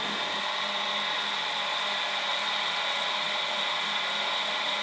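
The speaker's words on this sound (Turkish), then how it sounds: "Bir de şu kısım 285A olan kısım şuradan bir yerden deliyorum" A drill boring a hole in a 285A toner cartridge, a steady high whine held without a break, close and fairly loud.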